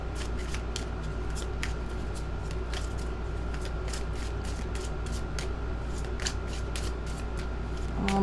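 A tarot card deck being shuffled by hand, with steady papery riffling and repeated sharp card snaps close to the microphone throughout, no talking.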